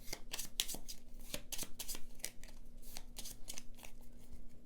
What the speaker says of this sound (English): Shuffle in the World card into those 4 cards.